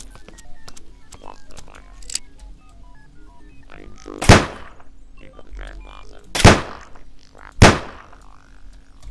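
Three sharp, loud gunshots from the stealth survival game Sir, You Are Being Hunted, spaced a couple of seconds apart over a low ambient hum and faint in-game clicks.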